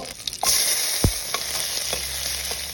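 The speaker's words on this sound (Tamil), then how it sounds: "மெலிசாக நறுக்கின வெங்காயத்தை போட்டு வதக்கிங்கோ." Thinly sliced onions sizzling and frying in a hot pan for peas pulao, with a steady hiss and a few scraping stirs of a utensil, close up.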